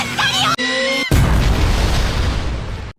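An anime-style bomb goes off with a loud, broad burst that rumbles and crackles for nearly two seconds, preceded by brief tonal effect sounds.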